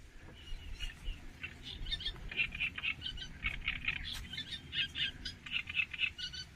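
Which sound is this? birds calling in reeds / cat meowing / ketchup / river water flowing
birds calling in reeds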